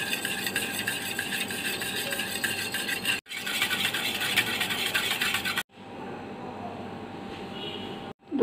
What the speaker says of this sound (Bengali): দুধগুলো আমি ভালোভাবে ফেটিয়ে নিয়েছি